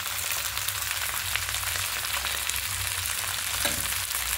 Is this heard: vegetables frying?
yes